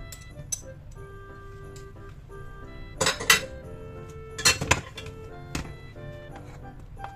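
Macaroni salad with cheese being stirred in a bowl, with clinks and taps of a utensil against the dish, a few louder clattering bursts over a quiet background.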